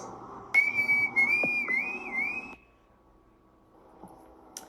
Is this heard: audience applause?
no